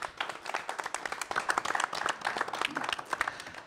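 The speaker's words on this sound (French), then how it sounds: "monsieur Emmanuel Augagneur, on vous applaudit" An audience at a French live event breaks into sustained applause, a dense, steady patter of many hands clapping at moderate volume for the whole stretch, with no one speaking over it.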